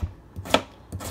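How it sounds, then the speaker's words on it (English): Knife chopping fresh garden vegetables for aloo gobi into tiny pieces, a few distinct close chops separated by short pauses in a quiet kitchen. "So you just cut it in like tiny pieces."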